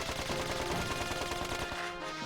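A gun in the video game Dark Cloud 2 fires a rapid stream of bullets, with fast, evenly spaced shots in a continuous loud burst that thins out near the end.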